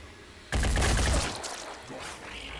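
A sudden burst of rapid gunfire in the tactical game Phoenix Point starts abruptly, rattles loudly for about a second, then fades into quieter combat ambience with a faint tonal effect.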